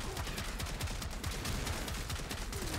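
A Trumna primary weapon firing in the Warframe video game, heard as a dense, continuous barrage of loud, rapid gunfire bursts layered over rumbling low-end noise.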